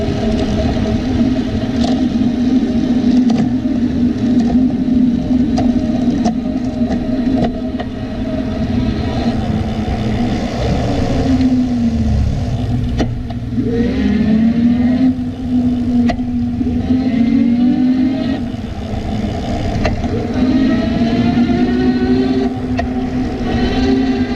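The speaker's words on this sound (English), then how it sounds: "Here I'm going to switch through the gears just a few times so you can see the derailleur in action." An AddMotoR MOTAN M-150 e-bike is pedaled while its derailleur shifts through the gears. A steady, close motor-and-drivetrain whine runs throughout, its pitch dipping and recovering around the middle, with faint clicks from the gear changes.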